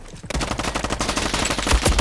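Rapid automatic MP5 gunfire from a Roblox shooter game bursts out after a brief pause, a fast, steady stream of close, punchy shots.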